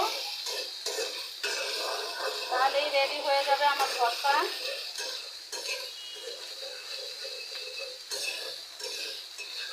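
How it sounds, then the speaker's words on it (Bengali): A spatula stirs mashed vegetables frying in oil for bhorta in a pan, giving steady scraping and clinking with a low sizzle underneath, close up, while someone talks over it. "এখন লাড়তে লাড়তে একদম ভাজা ভাজা করবো যাতে গায়ে কোনো পানি না থাকে"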